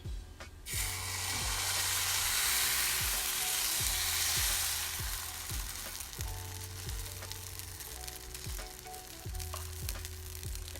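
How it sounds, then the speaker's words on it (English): Quinoa tortilla wrap frying in grapeseed oil in a cast iron pan, a steady broadband sizzle with a loud bright burst early on that settles into a softer crackle, alone without talk. "I'm gonna do a littler one on the cast iron with the oil on it."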